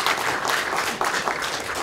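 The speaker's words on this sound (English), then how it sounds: "Yeah, let's clap." Audience applause for a panel of speakers at a mental health and the arts discussion, a steady, dense patter of many hands clapping throughout, fairly close and filling the room.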